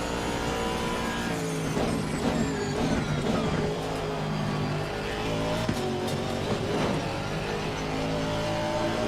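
A Mercedes-AMG race car in a Bathurst 12 Hour racing video game roars loudly and steadily, the engine revving continuously with tire squeal and rising gear pulls throughout.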